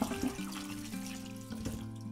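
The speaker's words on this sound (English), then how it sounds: "you wanna start by giving them a good rinse and scrub in cold water" Potatoes are rinsed and scrubbed under cold running water from a tap, a close and steady gush into a sink. A low tonal hum runs underneath.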